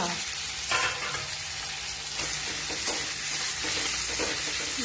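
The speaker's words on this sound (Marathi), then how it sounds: "काही मिश्रणाचे आपल्याला परतून घ्यायचे आहे. कांदा छान असा आपल्याला ब्राऊन कलरचा होईपर्यंत" Chopped onion and green chilli sautéing in a pan for pithla, with a dense steady sizzle and a spatula stirring in quick scraping strokes, close and fairly loud, with no speech.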